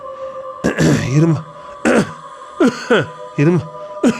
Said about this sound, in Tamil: இருமல் வர மாதிரி இருக்க.